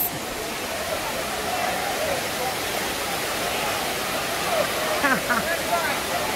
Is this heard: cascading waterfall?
yes